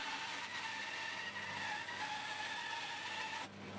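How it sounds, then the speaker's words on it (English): A bandsaw cuts through a block of wood for a wooden computer mouse, giving a steady whining, slightly squealing tone that drops away near the end. "now I'll cut out those lines on the bandsaw."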